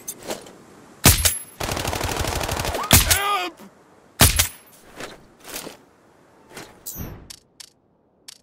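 Gunfire in Sniper Ghost Warrior Contracts: single sharp shots and a sustained burst of rapid fire, followed by scattered cracks and thumps that grow sparser and quieter.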